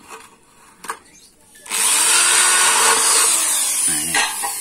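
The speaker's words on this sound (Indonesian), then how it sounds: "Saya coba borkan dulu satu gitu." A handheld electric drill bores a 4 mm hole for a rivet in a workshop. After a few quiet knocks, a steady high-pitched whirring drone starts and runs loud and close to the end.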